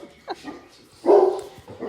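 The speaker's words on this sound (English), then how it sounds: "The dog's gonna go crazy because somebody rang the doorbell." A dog barks after a doorbell rings, a couple of short close barks with a whimpering yip between them, loud and sudden in a quiet room.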